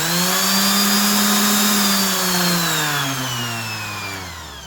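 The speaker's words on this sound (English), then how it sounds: "it is a nice sander" Makita 5-inch variable speed random orbit DA finish sander, handle style, whirs at high speed, then its pitch slides smoothly downward as it winds down, close and steady with no talk.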